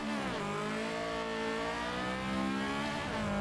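A Honda Civic race car engine revs steadily in a racing game at Brands Hatch Indy, its droning note dipping and climbing again in a continuous smooth whine, fairly quiet and with no one talking.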